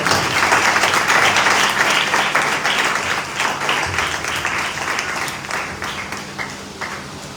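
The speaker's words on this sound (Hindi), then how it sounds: "आइए इस कलाम के लिए, पाक कलाम के लिए जोरदार तालियां बजाएं" Loud, sustained applause from a congregation at a Sunday Urdu sermon, dense clapping filling the space for several seconds and tapering slightly toward the end, with no talk over it.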